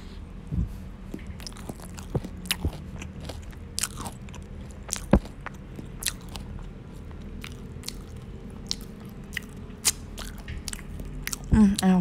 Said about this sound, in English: Yang kacang kayaknya ada suaranya. Ya kan crunchy-crunchy gitu.